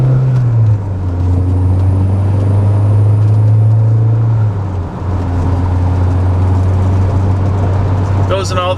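A 1981 VW Rabbit pickup with a 5-speed manual drives through the gears, its engine droning steadily from inside the cab with a pitch drop at a shift and road noise throughout.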